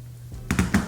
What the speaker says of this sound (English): you can hear when you're pressing it, but really on the spacebar key